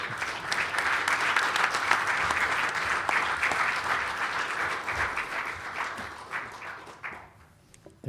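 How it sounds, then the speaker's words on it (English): Loud, sustained applause from a crowd at a felicitation event, steady clapping for several seconds before tapering off near the end. "That really requires a big applause."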